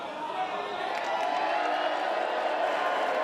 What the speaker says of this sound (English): but I did hear some cheers